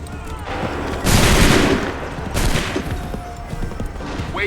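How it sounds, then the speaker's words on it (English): A musket volley rings out in Assassin's Creed III: two loud, crackling bursts of massed gunfire about a second apart, each fading into a noisy rumble amid battlefield ambience. "Fire now!"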